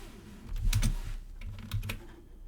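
Typing on a computer keyboard while entering Java code, a quick run of soft close key clicks in two short bursts, with no talking.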